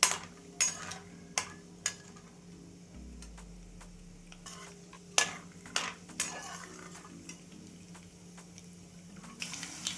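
Ingredients roast in oil in a pan while a metal spoon stirs and scrapes, sharp irregular clinks over a low, steady sizzle.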